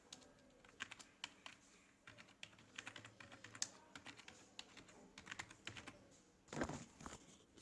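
Typing on a computer keyboard, a steady run of quick close key clicks in irregular bursts with a brief louder clatter near the end, no voices.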